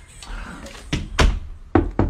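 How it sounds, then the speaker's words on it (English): Knocking on a bedroom door: a few separate hard knocks, loud and close, with two pairs of strikes near the end. No talk in between. "Go out and knock."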